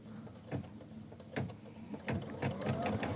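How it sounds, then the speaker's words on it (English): An embroidery machine begins stitching a quilted project bag, giving a soft, steady mechanical whir with faint rhythmic clicks of the needle, moderately quiet and heard on its own. "now I go ahead and begin stitching"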